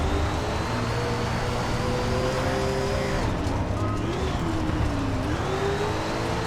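Dirt late model race car engine in the SRX racing video game at Diamond Grove, a steady loud drone with shifting engine pitch, easing and rising as the throttle comes off and back on through the corner.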